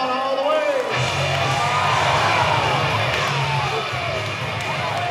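A rodeo crowd cheers, whoops and shouts for a young costumed bronc rider at the 2024 Black Hills Stock Show, a loud, steady roar of massed voices that rises after the first second and holds under arena noise.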